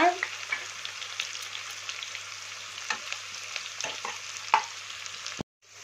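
Ginger paste fries over a low gas flame with a soft, continuous sizzle and a few light scrapes of stirring. It cuts off abruptly into near silence at the end.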